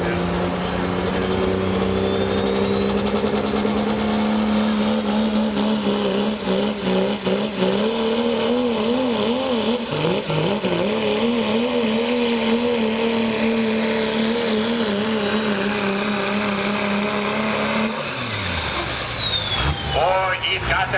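A Dodge pulling truck runs hard at a truck and tractor pull, its loud engine droning and revving steadily with shifting pitch for about twenty seconds, while an announcer talks over it.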